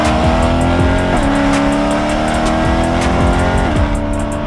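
A 2013 BMW M3 E92 with an X-pipe and valved axle-back exhaust roars loudly and continuously from inside the car, with rising and falling revs through gear changes and a faint tire squeal.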